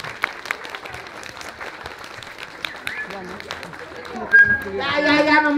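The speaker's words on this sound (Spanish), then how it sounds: "¡Fuerte el aplauso para ella!" Party guests applaud at a clown show in Puebla, sustained clapping under lively voices, with a louder burst of cheering and music-like tones near the end.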